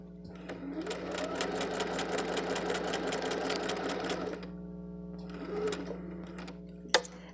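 A sewing machine stitching a small bag runs in a rapid, even burst of needle strokes for a few seconds, stops, then gives a shorter run and a sharp click at the end, close and alone.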